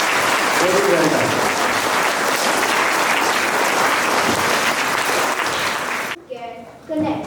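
A school assembly audience applauds a class of teacher and students with loud, dense clapping for about six seconds, then it stops abruptly and a brief bit of talk follows.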